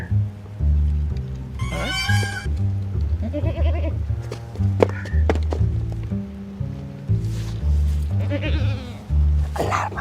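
Goats bleat loudly and close by in a Bhojpuri comedy skit about buying a goat, several wavering calls spread across the clip over a humming background, with voices around them.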